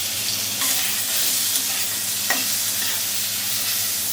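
Small chopped taki fish frying in hot mustard oil, a loud, steady close sizzle with occasional light scrapes and pops.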